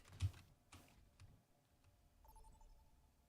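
Sparse, faint keystrokes tap on a computer keyboard in a quiet room, followed by a short electronic tone, with no talk.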